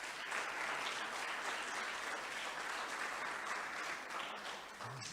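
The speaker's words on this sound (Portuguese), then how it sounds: "Vou pedir uma salva de palmas para o Denis." Sustained audience applause at a talk or presentation, as a crowd claps to honor a person named Denis; dense, loud, continuous clapping for about five seconds, fading slightly at the end, with no speech over it.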